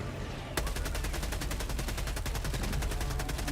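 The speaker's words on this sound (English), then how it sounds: "Machine gun for the win!" Sustained automatic machine gun fire in the Helldivers 2 video game, a rapid, evenly spaced stream of loud shots that starts abruptly after a brief rumble of battle and continues unbroken to the end.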